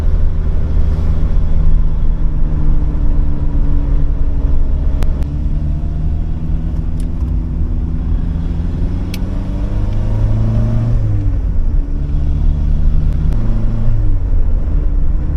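A classic Fiat car drives along with a loud, close engine drone that rises and falls as it speeds up and eases off, and the tyres rumble beneath it. No one speaks.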